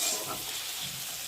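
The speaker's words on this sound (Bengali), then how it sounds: "পেঁয়াজটা একটু হালকা করে ভেজে নেব।" Onion frying lightly in hot white cooking oil, a steady, fairly faint sizzle running through without a break, with no voices.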